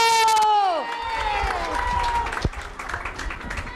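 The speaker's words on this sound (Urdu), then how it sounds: "اور سب لوگ تالیاں بجا کر ہاتھ اٹھا کر بتائیں مبارک ہو" A crowd at a political rally in Kashmir breaks into clapping and cheering after a tonal electronic note fades out, with scattered shouts and children's voices mixed into the uneven, moderately loud applause.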